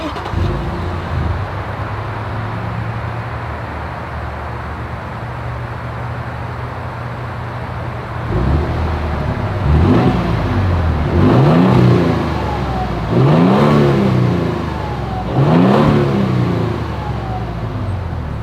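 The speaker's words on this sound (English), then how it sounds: "here is that exhaust clip" Toyota Tundra with a TRD exhaust idles with a low rumble, then revs several times in sharp rising and falling bursts, loud and close with no talk.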